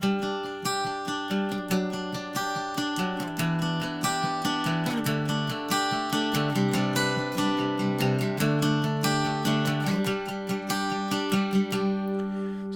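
A bright tenor guitar tuned GDAD picks chord notes one by one, then strums the same chord in a steady, even rhythm, close and alone.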